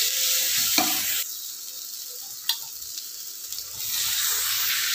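Eggplant sizzles steadily in an oiled pan while cooking for a coconut curry masala, with a few soft scrapes and clinks as it is stirred. The sound is close and even, and no one speaks.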